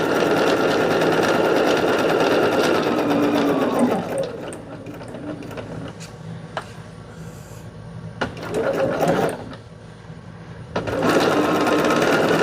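A sewing machine stitches a quilt block, running in loud, rapid bursts close up, with pauses between runs and a few soft clicks and handling noises, plus brief talk.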